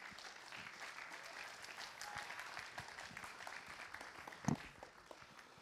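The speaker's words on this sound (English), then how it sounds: "Please give them a round of applause." An audience at a CGBC 2012 gaming convention stage presentation applauds steadily, a sustained wash of clapping heard from within the crowd with no voices over it.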